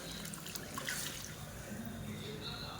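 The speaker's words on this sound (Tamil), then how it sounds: "இப்போ சாம்பாருக்கு தேவையான தண்ணி சேர்த்துக்கலாம்." Water pours steadily into a pot of South Indian sambar in a home kitchen, a continuous soft splashing trickle, quiet and close, with no pauses.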